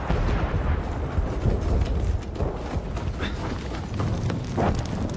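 Artillery shells burst in a French war film, a dense barrage of booming, rumbling explosions with crackling impacts, continuous and loud throughout.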